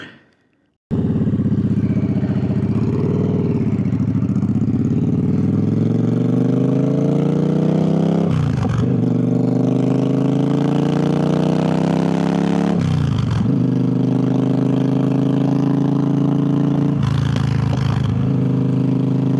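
A motorcycle starts up and rides off along a coastal road near Freshwater Bay on the Isle of Wight, the engine loud and close as it climbs through several gears, each shift marked by a brief drop before revving again.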